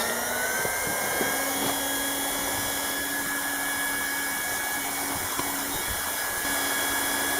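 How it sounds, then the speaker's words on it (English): A heat gun set to about half power runs against a trailer's front window, giving a steady, constant blowing hum with a faint whine, close and unchanging, accompanied by occasional light scraping clicks. "So I've got the heat gun not on maximum, but on about half."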